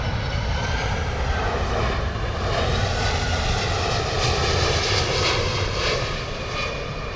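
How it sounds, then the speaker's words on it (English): A Delta Air Lines Boeing 767-400 arriving from JFK comes in to land at London Heathrow, its engines a sustained loud roar with a slowly shifting whine and no voices. "Delta 1 coming in from JFK, New York, Delta Airlines. Boeing 767-400."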